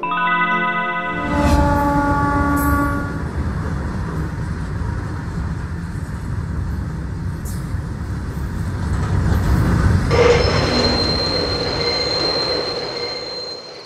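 A cartoon train runs along the rails with loud, shrill wheel squeals over a heavy rumbling roll. The squeal fades mid-pass, then returns with a sharper metallic whine near the end.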